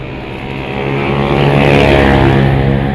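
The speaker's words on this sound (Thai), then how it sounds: "เสียงรถดังมากเสียงรถดังมาก" A loud, steady engine roar swells and holds as a vehicle passes close by, a deep rumbling drone with no voices.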